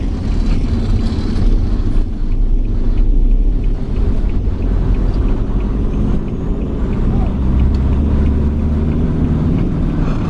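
A Toyota Hiace travel van's engine drones as it rides along a road from Bengkulu to Bukittinggi, a loud, continuous low rumble with wind noise throughout.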